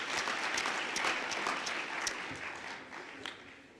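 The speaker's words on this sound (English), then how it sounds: "Let's give them a big round of applause." Audience applause at a University of Fort Hare graduation ceremony, a dense, steady wash of many hands clapping that fills the hall, with a few sharper individual claps standing out before it gradually thins toward the end.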